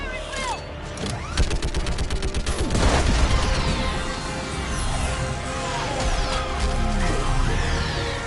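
Gunfire in Mass Effect 3 during a battle against a live Reaper, with dense overlapping shots, crashes and explosive booms rolling continuously under game music and effects.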